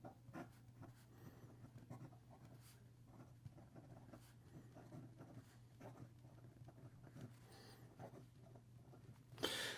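A fountain pen writes on paper, making faint, soft scratching strokes in an irregular rhythm over a low steady hum, very quiet and close, with no talk.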